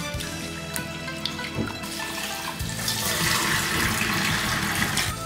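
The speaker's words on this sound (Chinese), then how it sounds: "再来把猪油洗干净" Pork lard washed with a little salt under a running tap; steady splashing water that swells louder and broader in the second half, with faint clatter of handling.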